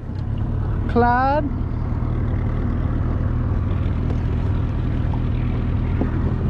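Inshore fishing boat's motor running on a marsh, a steady low engine rumble throughout, with a short voice call near the start over the drone.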